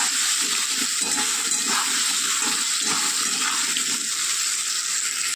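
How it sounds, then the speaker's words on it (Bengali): Pointed gourd (potol) fries in oil with turmeric and salt, a continuous dense hiss and sputter that stays loud and even, with faint stirring movement underneath. "তো চলুন পটলগুলো লাল করে ভেজে নিয়ে আসছি"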